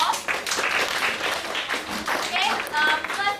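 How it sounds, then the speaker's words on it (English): Classroom of students giving a round of applause for a classmate, a dense burst of many hands clapping fairly close for a few seconds, with some voices mixed in. "can you give Wen-Fang a round of applause?"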